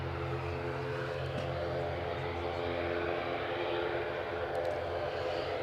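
At Edinburgh airport an aircraft engine starts up, a steady droning hum with low throbbing tones heard from a distance, holding fairly even throughout with faint background noise and no clear talk.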